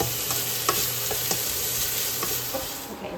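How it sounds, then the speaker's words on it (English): Onions sauté in a pan with a constant, close sizzle and soft stirring scrapes throughout, and no voices. "this is going to saute for about 6 minutes. Or until the onions get tender"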